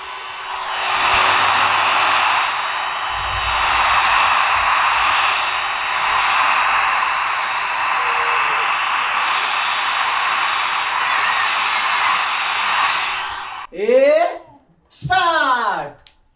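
A hair dryer blows steadily for about thirteen seconds while drying a bed indoors, a loud close whooshing hum, then cuts off and a voice is heard speaking briefly.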